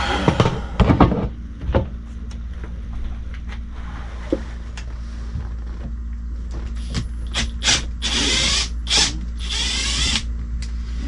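A power drill backs a screw out of a Schwintek bed lift, giving a mechanical ratcheting whir in short bursts over a steady low hum, close and fairly loud, with clicks and rattles between runs.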